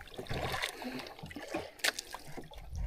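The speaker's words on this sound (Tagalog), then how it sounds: "malakas ang agos" Water surges and splashes against a small boat in a strong sea current while out fishing for squid used as tuna bait on the Pacific, heard as an irregular, fairly faint churning and sloshing with occasional splashes.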